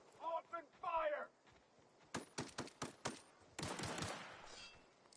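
Gunfire in The Outer Worlds opens with a burst of separate sharp shots, then a longer loud volley of overlapping fire that slowly tails off, all following a short spoken voice.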